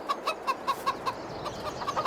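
Chickens cluck in a Farming Simulator 22 farmyard on PS5, a flock of laying hens with a rooster giving a steady run of short, evenly spaced clucks at moderate loudness, with no talking over them.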